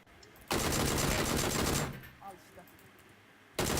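Automatic gunfire from the video game PUBG rattles in a loud, dense burst lasting more than a second. Quieter game sounds follow, then a second burst cuts in at the end.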